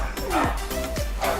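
Pit bull dogs on a balcony giving sharp yips and barks with whimpering notes, loud and close, several quick calls in a row with a voice talking in the background.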